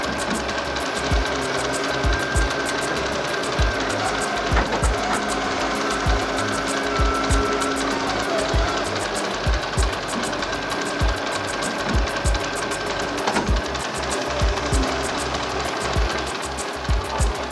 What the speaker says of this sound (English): The excavator then scoops the clay and feeds it into the machine's hopper.